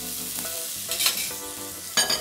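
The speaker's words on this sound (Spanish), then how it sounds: "Los primeros segundos ya sabéis que tenéis que revolver un poquito la pasta para que no se pegue" Pasta being stirred in a pot of boiling salted water, with short scraping and bubbling bursts of stirring over a steady simmer, close and without talking.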